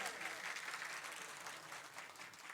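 Men in the audience at a Marathi kirtan clap hard in unison, a dense, sustained burst of applause that holds steady from start to finish with no talk over it.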